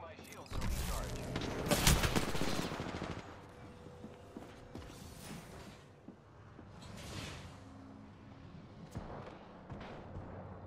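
Vehicles firing guns in a video game: a loud burst of rapid gunfire and blasts at the start, then scattered quieter volleys and mechanical clatter under a talking voice.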